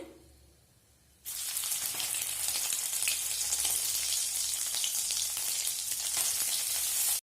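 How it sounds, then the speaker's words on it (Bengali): Soybean chunks dropped into hot oil in a wok burst into a loud, steady sizzle that starts abruptly after a quiet moment, crackles evenly for several seconds, then cuts off. "এখন আমি সয়াবিনগুলোকেও ভেজে নেব"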